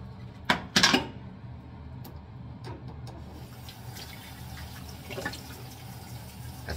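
Water runs from a tap while a razor is rinsed, a couple of loud splashy bursts early on followed by a softer steady flow with occasional splashes.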